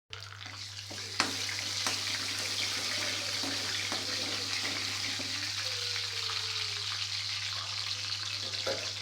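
Mustard seeds, cumin and other tempering spices fry in hot oil, giving a steady bright sizzle with a few sharp pops and stirring clicks, close and with no talking.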